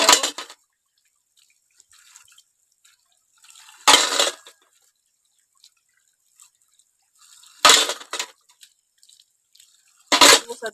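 Water splashes over worship utensils being washed in a village home, four separate bursts of close pouring and splashing with quiet gaps between them.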